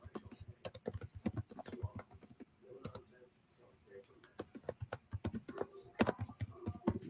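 Quick bursts of clicking keystrokes on a computer keyboard, close and fairly quiet, come in irregular runs with short pauses throughout.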